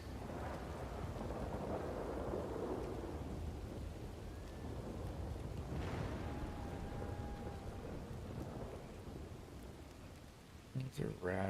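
Steady rain hisses throughout with low rumbling underneath, while a faint tonal squeak drifts through the middle and brief knocks sound at the end.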